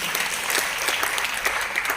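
Thin, half-hearted clapping from a seated audience at a talk session in Chennai, a steady patter of scattered hands lasting a couple of seconds at moderate volume with no voices over it.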